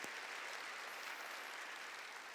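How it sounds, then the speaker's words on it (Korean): A church congregation bursts into dense applause, loud and continuous clapping from start to end. "읽은 사람만 박수를 하나님께"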